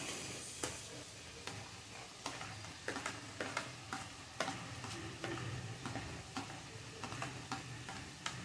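Onion dropped into hot oil for a Bengali snake gourd stir-fry, giving a steady close sizzle with repeated spatula stirs and scrapes clicking against the pan throughout.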